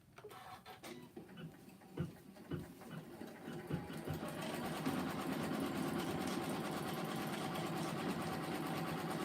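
A Janome Continental 17 embroidery machine with a giant 12x19 hoop stitches a guide line, first uneven clicks and whirs, then a steady rapid mechanical hum of the needle running close.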